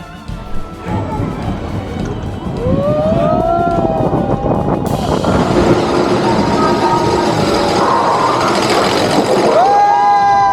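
A fast roller coaster at a Disney park roars along its track with a loud, steady rumble, with rising whines and squeals as the cars speed up and take curves, heard from close on board.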